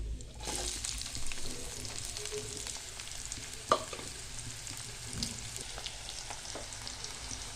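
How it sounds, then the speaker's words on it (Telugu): Onions and cumin seeds frying in a pan for a beans masala curry, a steady close sizzle with occasional stirring scrapes and one sharp clink midway, no voices. "తర్వాత ఒక కప్ ఆనియన్స్ వేసుకుంటున్నాను."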